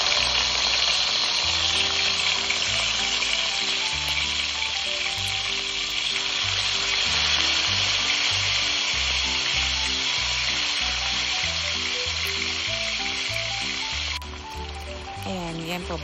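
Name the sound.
pork spare ribs frying in a pan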